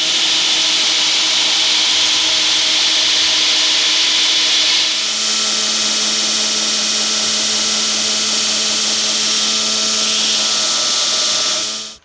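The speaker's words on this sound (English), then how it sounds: "it's just going to be quicker to go at it with a good sharp 36 grit on the grinder and haul all that off there" A bench grinder fitted with a sharp 36 grit abrasive hogs material off a wooden axe handle, a loud, continuous whirring roar up close whose pitch shifts midway as the pressure changes, then cuts off at the end.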